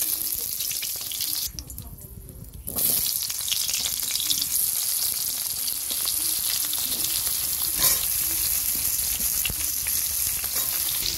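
Vegetables frying lightly in a pan on a home kitchen stove, a steady bright sizzle running throughout with a brief dip early on, then continuing loud and even.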